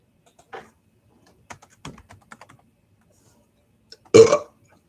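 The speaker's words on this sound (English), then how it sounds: "I burped." A single loud, rough burp erupts near the end, preceded by scattered soft clicks and taps like keyboard typing in a quiet room.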